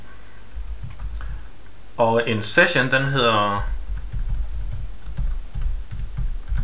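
Fingers tap steadily on a computer keyboard while someone writes web code. The close, light clicks run through the whole stretch, and someone speaks Danish over them in the middle.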